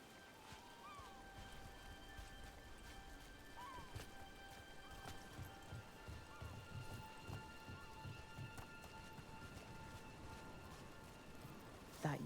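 Steady rain in Dragon Age: The Veilguard pours on and on as an even, close hiss, with a soft ambient drone and faint tones beneath and occasional voices in the background.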